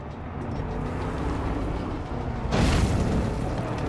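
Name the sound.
explosion in Far Cry 5 Dead Living Zombies video game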